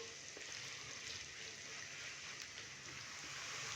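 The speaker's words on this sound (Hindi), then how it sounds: "अभी मैं प्याज को अच्छे से नरम कर लूँ, 3 से 4 मिनट मीडियम फ्लेम पे फ्राई कर लूँ" Onions fry in oil on a medium flame with a steady, soft crackling sizzle, even and continuous throughout with no voices.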